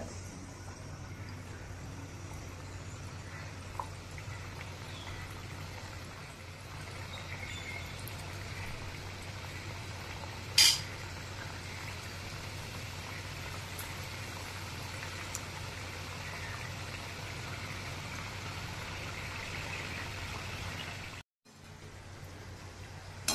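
Wheat kapnya snacks fry in hot oil over a medium flame, giving a low, steady bubbling hiss that runs throughout with a few faint clicks and a brief dropout near the end.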